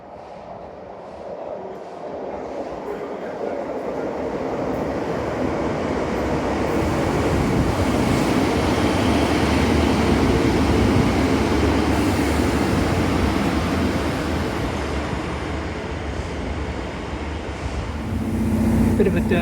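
A passing train at Dawlish rumbles past through a window, a steady broad roar that swells in the middle and eases toward the end, with faint voices now and then.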